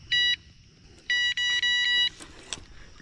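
A fishing bite alarm at a night camping spot gives a short electronic beep, then a longer run of rapid beeps in two bursts, loud and close, followed by faint clicks.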